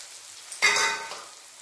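Ground cumin, coriander and turmeric hitting a hot pan with tomato, a sudden loud sizzle that flares up and then slowly fades, alone with no voices.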